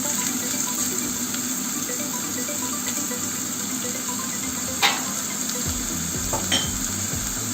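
Finely chopped onion fries in a pot for a plum stew, giving a steady, even sizzle throughout, with a couple of brief clinks from the pan and no talking.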